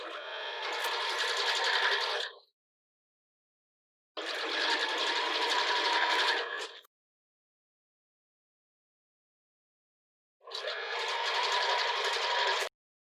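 A home sewing machine stitches the center front seam of a sports bra in three sustained bursts, each about two to three seconds long, separated by clear pauses, close and fairly loud with no talking.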